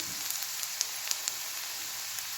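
Oil poured over dried fish curry in a pan crackles into a dense, continuous sizzle, close and even, with small pops and spits scattered through it and no voices.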